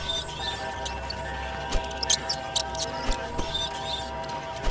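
Rats squeak in the video game Pikabuu: Unhuman, with thin high chirps over a low game ambience and scattered soft thumps and taps, fairly quiet throughout.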